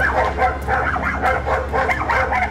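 Several dogs bark and yip in a park, a busy overlapping run of sharp barks with a few whimpers, fairly close and steady throughout, with no talk over them.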